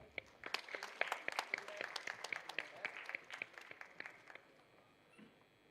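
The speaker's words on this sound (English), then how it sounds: "A big round of applause, please." A small audience at a youth entrepreneurship event at a college clapping to honor a guest, sparse distinct claps from a handful of people, fading out after about four seconds.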